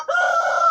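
A young backyard chicken, grown from a chick, gives one sustained, tonal call close by, steady and loud for most of a second with no other sound.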